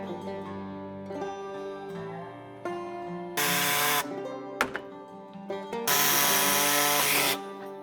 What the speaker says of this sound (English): we're gonna cut these little plastic pieces off, just kind of level with the bottom of the bumper